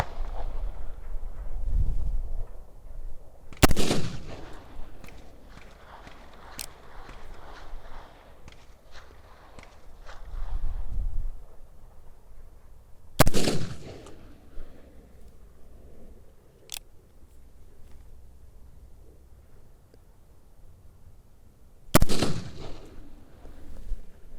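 Three loud black powder gunshots, about nine seconds apart, fired at a distant long-range target outdoors, each a sharp blast with a rumbling tail, with quiet rustling and shuffling between shots.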